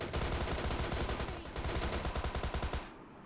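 Rapid automatic gunfire from a Thompson submachine gun and a DP-28 light machine gun in PUBG Mobile Lite, loud, close bursts of shots rattling almost without pause before cutting off near the end.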